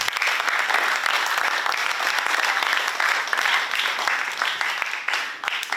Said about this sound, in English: can we give up ourselves another round of applause